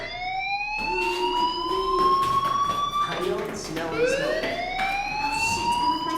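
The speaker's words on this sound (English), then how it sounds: "do you hear that fire alarm?" An electronic fire alarm in the video game Life Is Strange wails in rising, repeating sweeps, loud and continuous, with people talking underneath it.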